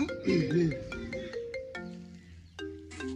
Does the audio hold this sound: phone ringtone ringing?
yes